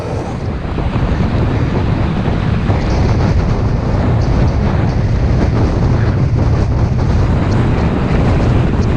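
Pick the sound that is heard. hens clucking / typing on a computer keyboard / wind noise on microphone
wind noise on microphone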